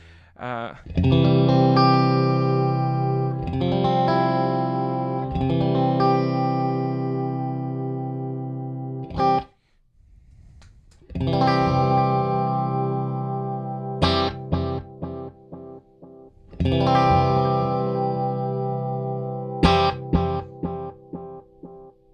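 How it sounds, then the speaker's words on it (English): Strummed electric guitar chords through an Alexander Pedals Amnesia delay pedal ring out in two phrases, each followed by hard-picked notes with echoing repeats trailing off, separated by a brief quiet gap. "play a chord and then a strong attack so you can hear the repeats"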